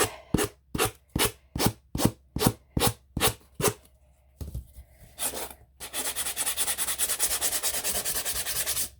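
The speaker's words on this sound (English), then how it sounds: "So I'm going to take my sandpaper, and this is kind of rough sandpaper." Rough sandpaper scraping the edges of a handmade craft sign, first in about a dozen rhythmic separate strokes, then a short pause and a continuous fast rubbing, close and loud.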